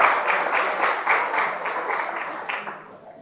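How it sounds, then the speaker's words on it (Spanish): A congregation at a church service applauds as the children leave for Sunday school. The clapping is dense and sustained, with a few louder swells, and it thins out at the end. "Despedimos a los niños con un aplauso a los niños"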